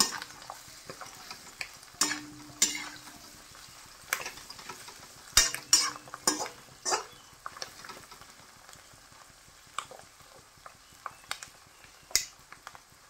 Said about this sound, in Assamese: সেম প্ৰসেছত ইয়াকো ব্ৰাউন কালাৰ হোৱালৈকে আমি ফ্ৰাই কৰিম